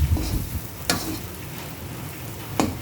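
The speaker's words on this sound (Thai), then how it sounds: "สามเกลือนี่เราก็จะมาผัดกับน้ำมันก่อนนะคะใส่น้ำมันลงไปนิดเดียวค่ะ แล้วก็มาผัดผัดให้หอมนะคะ" A garlic, coriander root and pepper paste stir-fries in a little oil, giving a steady close sizzle broken by two sharp scraping strokes of the spatula against the pan, with no voices.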